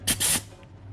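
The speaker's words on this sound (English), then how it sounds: "I'm gonna just hit that with the wire wheel real quick before I lay it up on top" An air-powered wire wheel, run off a big compressor, scrubs rust from a cast iron printer's table top, giving two short, close bursts of harsh hiss that then fade to a quiet room.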